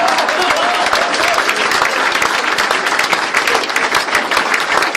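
Dense, loud audience applause at a Hindi poetry recital, a sustained crackle of many hands clapping with no break, close and filling the room.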